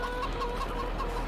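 Chickens cluck softly in a farmyard in the Farming Simulator 22 video game, a few short repeated clucks over a steady background hum.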